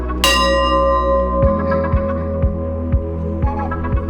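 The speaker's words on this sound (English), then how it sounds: "And at the end of it, you get to ring the bell." A bell struck at the end of the Himalayas putting hole on a Scottish golf course gives one loud ringing clang, then a steady hum with five or six soft, regular thuds beneath it.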